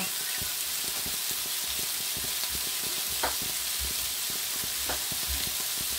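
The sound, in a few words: Knacki sausages pan-frying (poêlée) in a pan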